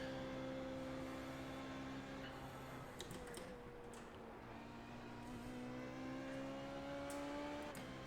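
Formula Renault 3.5 race car engine heard from inside the car, a steady tonal engine drone rising in pitch as it accelerates, broken by a few gear-change clicks, fairly faint and without talk.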